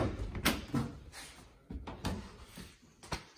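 The rear doors of a 2022 Volkswagen Caddy van are opened with a series of quiet clunks and thuds from the latch and door panels, close by in a faint, muffled setting.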